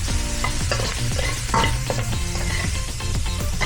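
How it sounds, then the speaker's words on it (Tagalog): Onion, garlic and meat sautéing in a pan, a constant close sizzle with repeated scraping and clinking of a utensil stirring against the metal, with no talking. "Ginigisa na natin yung sibuyas, bawang, sa karne."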